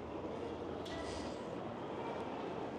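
Inside a Tokyo train station, a continuous, fairly loud rail rumble and hiss of a passing train fills the space, with a faint brief squeal above it.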